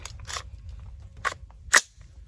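Several sharp metallic clacks and snaps in quick succession as an AR rifle is loaded at a hunting camp, ending with a louder crisp click, over faint background rumble.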